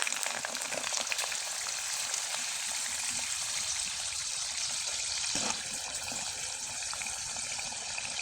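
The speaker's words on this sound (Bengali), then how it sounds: "এবার কয়েকটা চিপস আমি আপনাদের তেলে ভেজে দেখিয়ে দিচ্ছি" Homemade sun-dried potato chips crackle and sizzle in hot oil, a steady bubbling hiss that fills the clip and settles slightly quieter partway through, with no talking.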